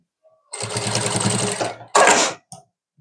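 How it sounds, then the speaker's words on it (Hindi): A sewing machine stitches a fold on a saree, loud and close, with a long run of whirring, a short pause, a second burst and a final brief tap. "अभी जो हमने एक्स्ट्रा कपड़ा रखा था उसको अंदर की तरफ फोल्ड कर देंगे और फाइनल सिलाई लगा देंगे।"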